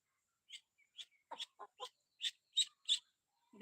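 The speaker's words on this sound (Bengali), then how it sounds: "ছেলে হাঁস" A male duck calls in a quick run of about eight short, sharp quacks, evenly spaced and fairly close, with no talking.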